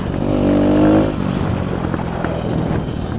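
Kawasaki KLX 110 pit bike engine revving loudly while riding on a gravel path, the whine peaking early and then dropping to a rougher, fluttering run, heard close.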